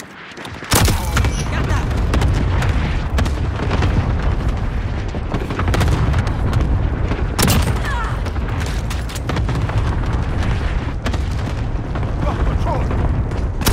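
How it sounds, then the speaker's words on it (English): A cluster strike in Call of Duty: Modern Warfare sets off a continuous barrage of booming explosions and gunfire, loud and close throughout, with sharp blasts standing out and a player talking briefly over the din. "Enemy friendly cluster strike inbound."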